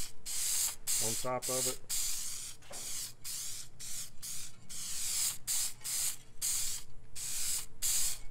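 Aerosol spray bursts of Protecticoat laid on as a light coat: a series of short, loud hissing sprays, evenly repeated, with a person briefly talking under them early on.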